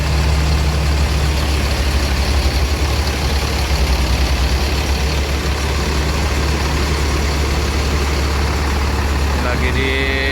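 A Sempati Star bus engine idles in a crowded bus parking area, a loud, steady low rumble that continues unchanged throughout, with a faint change near the end.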